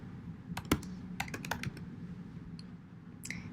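Someone types a web link on a computer keyboard: a short burst of close, crisp key clicks in uneven rhythm, then a pause and a few final taps.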